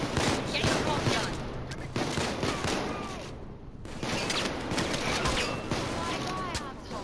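Gunfire in Payday 2, including a pump shotgun, with repeated sharp shots and bursts over chaotic action, with voices shouting among the blasts.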